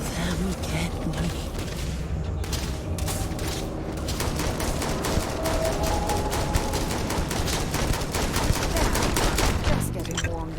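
Sustained rapid gunfire in Starfield, with loud rattling bursts and impacts layered into a constant, dense barrage that runs throughout; a voice speaks briefly over it.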